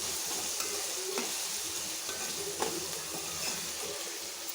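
Onions fry in a pan for a chicken masala curry, a steady close hiss and sizzle with occasional soft stirring clicks.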